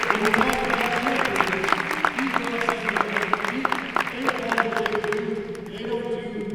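Audience applause at a Special Olympics dinner at Towson Center, a dense, steady clapping from a large crowd that keeps going for several seconds before thinning out near the end.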